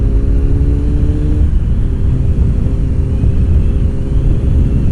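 A small motorcycle ridden through winding twisty roads, its engine a loud, steady low rumble at close range with a brief gear or rev change early on, no speech.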